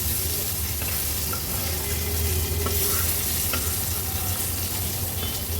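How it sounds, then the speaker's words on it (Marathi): Large lepa fish fry in about three tablespoons of oil on a flat tawa for an Agri Koli style fish thali. A steady, close sizzle runs throughout, with occasional soft scrapes of a turner against the pan. "हे बघा, मागच्या बाजूनी पण अगदी व्यवस्थित हे तळले गेले।"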